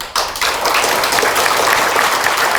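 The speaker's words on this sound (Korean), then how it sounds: "제가 박수를 쳐야 안 해도 자동으로 치십니다." Congregation at a Won Buddhism temple enshrinement ceremony breaks into steady, dense applause that starts abruptly and holds at full strength, close and loud throughout.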